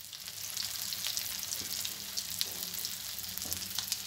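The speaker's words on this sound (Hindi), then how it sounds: "मैं आ फ्राई कर रही हूँ" Shami kebabs fry in a pan over medium-low heat, giving a steady, soft sizzle with faint crackles and a few light pops throughout, close and fairly quiet, with no talking.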